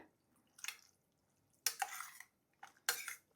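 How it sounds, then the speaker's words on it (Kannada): A Malabar spinach dish is stirred in a pot with a metal spoon, giving three short, soft scraping and clinking bursts separated by quiet gaps. "ಈಗ ಇದನ್ನೀಗ ಕಂಪ್ಲೀಟಾಗಿ ಮಿಕ್ಸ್ ಮಾಡಿದ್ರೆ ಆಯಿತು."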